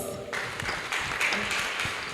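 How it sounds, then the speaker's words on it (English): Applause from a conference audience, a dense, steady patter of clapping that carries through the whole short stretch at moderate loudness. "a round of applause."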